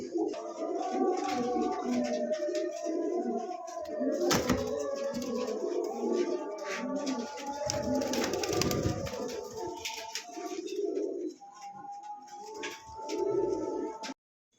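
Indonesian Maltese fancy pigeons coo in a steady, layered chorus, several birds close by with a few brief rustles and a sharp knock mid-way, continuing without talk throughout.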